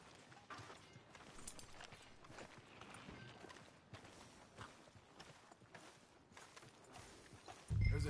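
In the video game Red Dead Redemption 2, horse hooves clop along at a walking pace. The steady, faint footfalls sit under ambient town noise and end in a brief louder thump.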